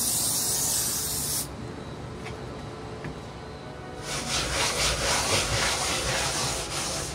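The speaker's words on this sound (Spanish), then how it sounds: "esta espuma la movemos un poquito, echamos en la superficie que vayamos a limpiar" Cleaning foam sprayed onto a truck cab surface during an interior clean, a bright hissing spray, then a softer rubbing stretch, then a longer, louder spray burst, close and with no talking.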